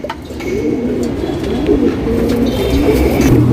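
A female Surmai breed pigeon coos in low, rolling, continuous throaty murmurs close by, with faint chirps and other bird sounds in the background.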